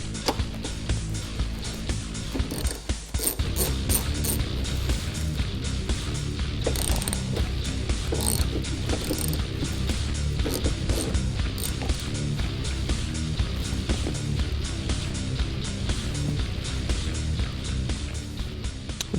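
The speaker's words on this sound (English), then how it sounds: "You're going to start by removing the bolt here that holds the seat belt in place and the secondary bolt here" Ratchet turning out seat belt bolts inside a 2005-2014 Mustang, a loud, steady run of rapid mechanical clicking that carries on almost without pause, with a sharper clunk near the start and no talking.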